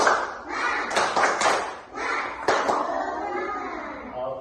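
A class of children does a spirit clap in a classroom: a few quick, sharp claps in a short rhythmic burst, with the children's voices chanting and speaking along between and after the claps.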